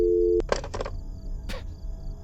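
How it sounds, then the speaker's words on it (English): Random electronic phone noises in the horror video game Fears to Fathom: a steady tone cuts off, followed by a few short bursts of harsh, buzzy electronic sound spread over two seconds, with no voices. "Random phone noises."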